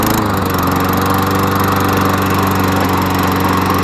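A Toro GTS walk-behind lawn mower engine runs loud and steady up close, its buzzing drone holding an even, continuous tone with no talking.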